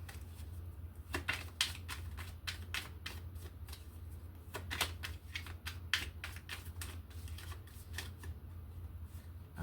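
A tarot card deck is shuffled and cut, giving a steady run of crisp, closely spaced card flicks and riffles at close range, with no voices.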